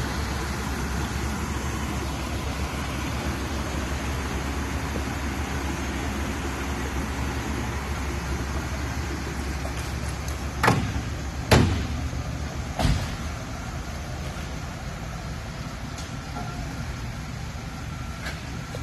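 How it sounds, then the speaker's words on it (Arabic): A 1996 GMC Suburban with a 5.7-litre 350 V8 driving along, its engine giving a steady low drone under broad road and wind noise, with a few sharp knocks partway through. "الحين نسوق السيارة"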